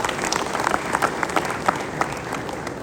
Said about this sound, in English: And I want to please give him a big round of applause for that.